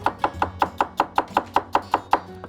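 Chef's knife chop-cutting celery on a board: eleven crisp, evenly spaced chops in a steady rhythm, close and clear with no talk.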